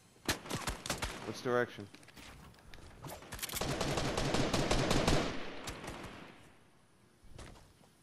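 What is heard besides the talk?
gunfire in a video game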